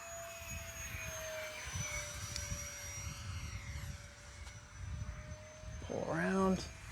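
An E-flite Habu STS 70mm EDF radio-controlled jet flying aggressively over a grass field, its whining ducted fan steady and fairly distant with a rising, shifting pitch, while wind rumbles and a voice briefly interjects near the end.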